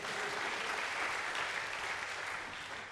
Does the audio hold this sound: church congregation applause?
yes